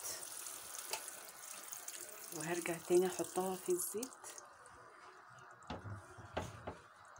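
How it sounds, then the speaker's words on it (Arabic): Tap water runs in brief splashing bursts over drained pasta in a kitchen sink, faint and close, mixed with speech and a few clinks. "وبفتح عليها الميه شويه"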